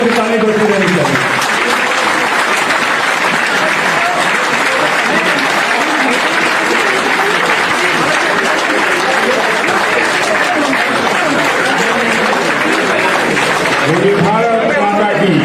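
Dense, sustained applause from an audience at a political welcome event for a BJP leader joining Congress at Rajiv Bhawan, Raipur, loud and continuous throughout with a few voices rising briefly near the start and end.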